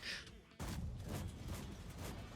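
Cannon fire in a video game, a sudden heavy blast after a brief lull, followed by a rolling barrage of booms, with a voice talking faintly underneath.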